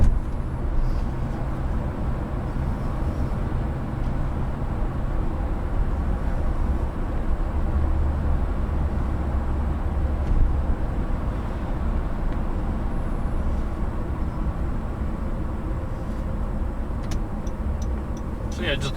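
A 2014 Honda Accord V6 with K-tuned upgrades hums along the road at a steady cruise, its engine and road noise continuous and fairly loud, with someone talking over it.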